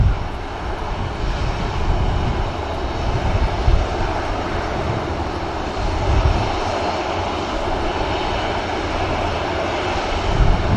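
Jet aircraft engines at Manchester Airport, a steady, loud roar that holds for the whole stretch with broad rumbling noise and no talk over it.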